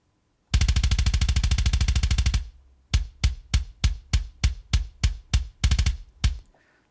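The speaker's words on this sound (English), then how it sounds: "So you can hear the sample has a lot of that clack," A metal-mix kick drum is run through a VCA with a bright, slappy trigger sample. A rapid machine-gun roll gives way to about ten separate punchy, clacky hits, loud and dry with no voices.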